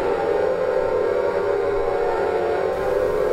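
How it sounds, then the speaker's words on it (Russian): A loud, sustained siren in the video game Silent Hill wails continuously, a steady droning tone that holds without pause before abruptly changing near the end. "Мы снова слышим сирены"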